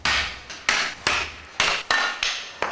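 Sharp, ringing hammer blows strike metal while a custom motorcycle is built, about seven loud close strikes in a steady rhythm, each decaying quickly.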